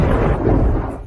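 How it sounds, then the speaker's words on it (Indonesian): A deep rumble of thunder rolls on a clear day, heavy and low, sustained for about a second before easing slightly. "mengapa tiba-tiba ada guntur?"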